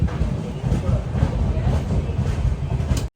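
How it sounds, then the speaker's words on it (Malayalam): Express sleeper train pulling into Kodaikanal Road railway station, a steady loud low rumble and rolling rattle of the coaches throughout, heard from on board. "കൊടൈക്കനാൽ റോഡ് റെയിൽവേ സ്റ്റേഷനിലേക്ക് ഇതാ നമ്മുടെ ട്രെയിൻ എത്തിക്കൊണ്ടിരിക്കുകയാണ്."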